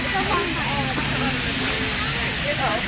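Steady hiss of escaping steam from a Grand Canyon Railway steam locomotive, with a low mechanical rumble beneath, continuous and close for a few seconds.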